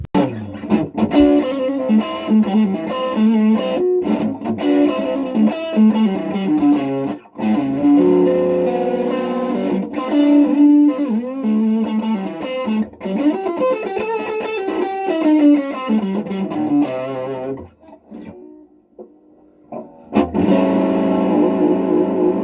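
A custom guitar built from a diesel Esso fuel can plays through distortion and effects, giving a loud, sustained, saturated stream of riffs and chords with a brief dip in the playing near the end.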